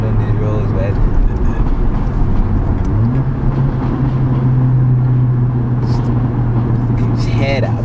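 A Mercedes CLA45 AMG with a 430 bhp engine accelerates along an open country road, a steady loud drone that rises in pitch partway through, heard from inside with a voice talking over it.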